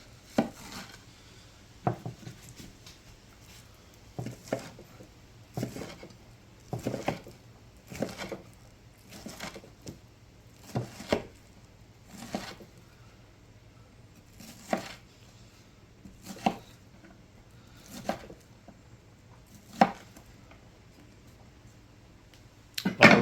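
A bushcraft-series chef's knife from The Cooking Guild presses down through food on a board, giving about a dozen crisp, evenly spaced chops with quiet pauses between them.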